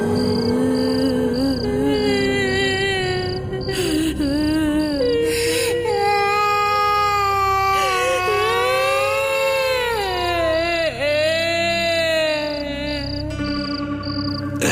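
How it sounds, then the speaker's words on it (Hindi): Children's cries in a Hindi horror story: loud, wailing, eerie voices whose pitch rises and falls continuously throughout, with no speech. "रात को बच्चे लिविंग रूम में ही सो गए। पर जब हम अपने रूम में लेटे तो हमें रात भर बच्चों के रोने की आवाज सुनाई देती रही।"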